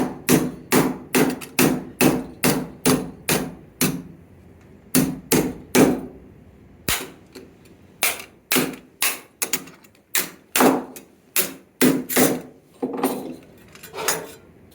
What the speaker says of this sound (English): Hammer it.